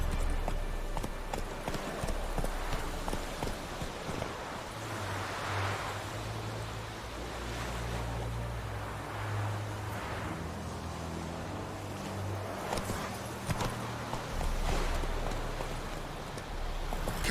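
Roach the horse gallops in The Witcher 3, a steady clip-clop of hooves running continuously with low rumbling ambience and splashy noise throughout.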